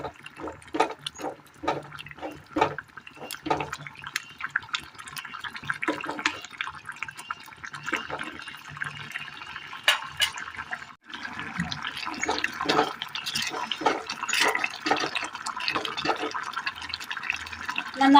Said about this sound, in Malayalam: നന്നായി ഒന്ന് തിളച്ച് വന്നിട്ടുണ്ട്.